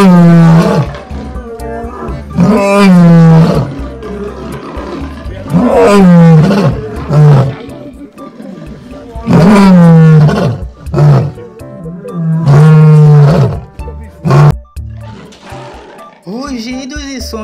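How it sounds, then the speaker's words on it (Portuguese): Lions roar in a sequence of loud, deep, drawn-out calls, each swelling and trailing into grunts, separated by short pauses, close and powerful. "Rugidos e sons dos leões."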